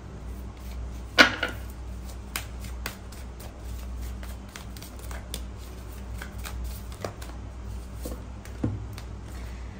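Tarot cards shuffled and drawn at a reading: soft papery riffles and flicks scattered through a quiet room, with a sharper snap of cards near the start and occasional lighter taps later.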